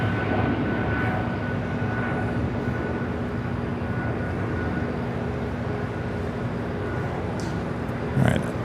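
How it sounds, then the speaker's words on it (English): An Air Canada Airbus A220-300 takes off at LAX bound for Vancouver, its engines a steady, distant roar that holds evenly for several seconds, with a brief louder burst near the end. "That is Air Canada 553 taking off to Vancouver on the A220 300"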